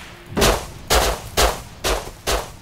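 Five loud, sharp gunshots ring out in the survival game Rust, evenly spaced about half a second apart, each with a short metallic tail, close and isolated.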